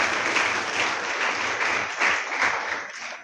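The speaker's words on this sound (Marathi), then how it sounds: "निंबर्गी सरांसाठी एकदा जोरदार टाळ्या सगळ्यांनी" An audience at a student-run Teachers' Day felicitation ceremony gives Nimbargi sir a loud, steady round of applause, dense clapping filling the room from start to finish.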